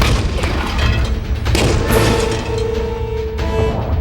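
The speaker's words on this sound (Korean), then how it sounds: "부탄가스 용기를 잘못 끼워 그 틈새로 부탄가스가 노출돼 폭발하게 되는 것입니다" Portable butane gas stove canister explodes after being fitted wrongly, with loud booming bursts and crashing over a sustained roar, followed by a steady hissing tone.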